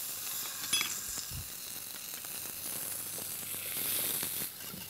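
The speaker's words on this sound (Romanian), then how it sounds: "Sosul fierbe?" Sauce cooking in a pan on a kitchen stove gives a steady, close hiss of sizzling and bubbling with faint scrapes and clinks, heard alone at even loudness throughout.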